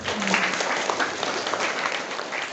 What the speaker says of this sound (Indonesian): tepuk tangan dulu baru